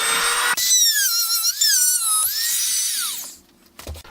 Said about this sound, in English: Dremel and see if I can get it out.